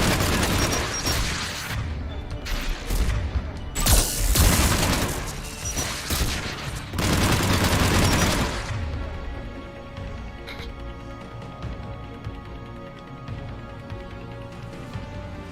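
Dense bursts of gunfire from the sci-fi shooter game Mass Effect 3 crackle loudly in rapid volleys for several seconds, then cut out and leave a quieter stretch of low ambience with a few faint, distant pops.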